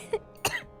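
A sick person coughs twice in quick succession, a short dry hack followed by a louder, fuller cough, close to the microphone with no other sounds around.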